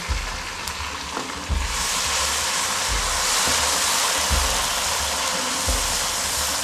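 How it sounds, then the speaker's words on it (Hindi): Garlic-ginger paste hits hot oil in a pan while aloo gobi is being made, and a steady close sizzle swells after a moment and holds, with soft low knocks from the pan underneath and no talking. "अब मैं इसमें डालूँगी लहसुन अदरक का पेस्ट"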